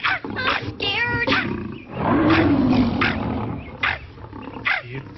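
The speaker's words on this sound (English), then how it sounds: "It sounds like a lion." A cartoon lion in the 1982 Wizard of Oz cartoon gives a long, rumbling roar in the middle of the scene. Animated voices talk before and after it.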